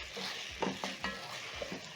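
Rice and spaghetti toasting in a pot are stirred with several soft scraping strokes over a steady sizzle, close by and without talk.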